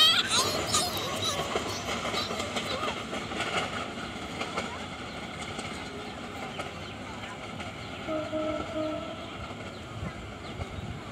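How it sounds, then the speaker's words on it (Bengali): A Dhaka-bound intercity train on the Bangladesh railway rumbles past close by, loudest at first, then its clattering roar fades gradually as it moves away. "চলে গেল ঢাকাগামী আন্তনগর ট্রেন।"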